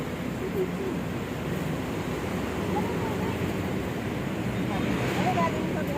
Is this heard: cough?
no